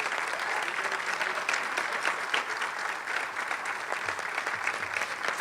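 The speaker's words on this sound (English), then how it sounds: "A big round of applause for Congressman Bill Keating." An audience at a policy summit applauds Congressman Bill Keating with steady, dense clapping from a moderate-sized crowd, continuing evenly and somewhat distant throughout.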